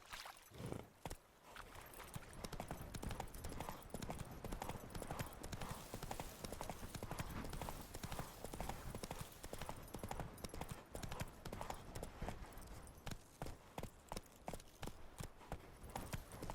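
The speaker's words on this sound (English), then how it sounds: "Run, Roach." Horse hooves clatter in a fast, continuous galloping rhythm in The Witcher 3 video game, close and dense, with faint ambient wash beneath and no talking.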